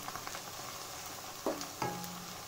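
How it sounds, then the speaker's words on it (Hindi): Onions frying in oil in a pan for egg biryani, a soft steady sizzle with a few sharper clinks and scrapes of stirring near the end. "और थोड़ा हमारी प्याज भूनना है"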